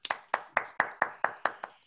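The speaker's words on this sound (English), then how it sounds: "Let's clap either audibly or if you can't clap audibly into chat" A single listener clapping hands after a mathematics talk on an online call: eight sharp, evenly spaced claps, close and clear, with no talk.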